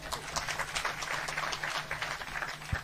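Audience applause from a village crowd, a steady wash of many hands clapping at moderate distance, with a low hum running underneath and a brief louder thump near the end.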